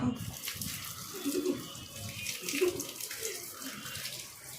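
Water runs steadily from a tap with a splashy, continuous rush, while a person talks faintly underneath.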